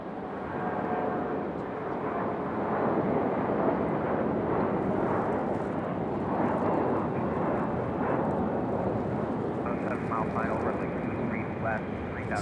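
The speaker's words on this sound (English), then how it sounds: "the other special livery today, the Air Canada All Black. Runway heading over to departure." An Air Canada jet airliner in an all-black special livery taking off at Raleigh-Durham International Airport, a broad steady engine roar held throughout, with a person talking over it.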